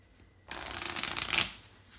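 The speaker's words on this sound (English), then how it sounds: "we can divide the deck roughly in half and shuffle the two halves together." A deck of playing cards is split roughly in half and riffle shuffled together, a close, crisp burst of rapid fluttering clicks lasting about a second, ending with a quick settling of the cards.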